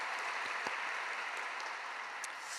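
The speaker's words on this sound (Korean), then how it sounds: "은혜의 말씀 전해주신 우리 목사님께 감사의 박수 드리겠습니다." A church congregation at a dawn worship service claps to thank the pastor after the sermon, a steady, even wash of applause heard from a middle distance with a few sharper claps standing out.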